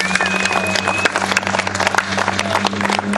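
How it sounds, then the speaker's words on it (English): Crowd applause at an Erie, Pennsylvania victory rally, a burst of clapping from an audience that continues over a steady background hum, with a voice briefly audible underneath. "I think we owe a big round of applause and thank you for everybody that was part of putting this on together today."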